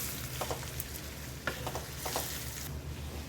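Grated raw mango fries in a hot oil tempering for mango pulihora, giving off a steady, close sizzle. A few soft stirring scrapes break through now and then.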